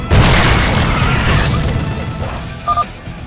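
A shredder grenade going off in StarCraft II: Wings of Liberty, a loud, close booming blast that rumbles and slowly fades over several seconds, with a brief metallic chirp near the end.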